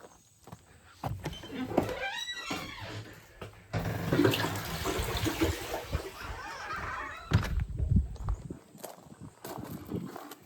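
A toilet flushes with a surging rush of water that swells, churns and fades, heard close up alongside bursts of other water noise and movement, while a person is working on the plumbing nearby.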